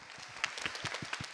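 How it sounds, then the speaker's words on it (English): Audience applause at a school student coalition mental health event, a brief, fairly faint patter of scattered claps from a modest crowd. "let's please give these amazing adults a huge round of applause"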